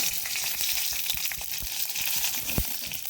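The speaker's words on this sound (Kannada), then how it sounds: "ಈಗ ಸಾಸಿವೆ ಒಳ್ಳೆ ಸಿಡಿಲಿ" Mustard seeds spluttering in about two spoonfuls of hot oil in a small ladle for a Mangalorean sambar tempering, a dense steady sizzle peppered with sharp pops and crackles, including one loud burst near the end.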